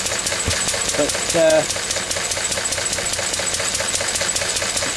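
A Lister D stationary diesel engine runs at a steady idle, its loud regular knocking beat close by and continuous, with a short rattling clatter midway and someone speaking briefly.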